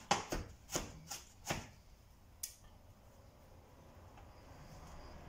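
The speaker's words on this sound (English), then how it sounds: "once that's chopped" Food is chopped by knife on a cutting board that keeps slipping: about six crisp, close knocks in quick succession, one more a moment later, then near silence.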